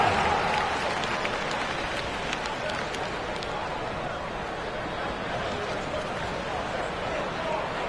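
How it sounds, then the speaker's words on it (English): Arena audience applause at a Bulls vs Wizards basketball game, a steady, somewhat distant wash of clapping and crowd noise lasting throughout with faint voices mixed in. "Give yourself a round of applause."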